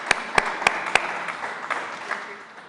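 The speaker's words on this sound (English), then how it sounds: "Give her a round of applause," An audience at the MESA Africa Summit 2021 claps: a few sharp, distinct claps stand out at first, then the applause thins into softer scattered clapping over a short stretch.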